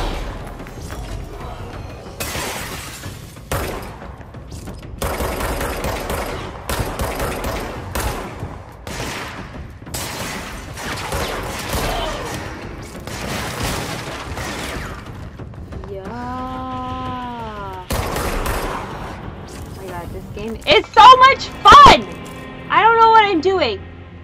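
Bursts of gunfire from the video game Control, with loud clustered shots and booms across most of the stretch, followed by mechanical tonal sounds and sharp clatter near the end.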